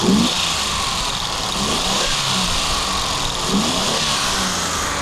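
A Mercedes-Benz W116 280SEL engine runs hard and close during a workshop engine test, a loud steady roar with slight swells in revs throughout and no one speaking.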